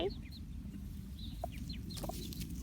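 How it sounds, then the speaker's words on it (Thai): Chickens cluck and peep close by on a farm, with soft repeated calls scattered over a steady outdoor background hum. "ไก่"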